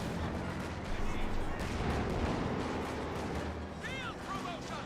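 Battle in Company of Heroes 2 with dense, continuous gunfire and artillery blasts, including an anti-tank grenade striking a Kübelwagen and a Panzer IV engaging, rumbling steadily throughout with a few whistling shell sounds near the end.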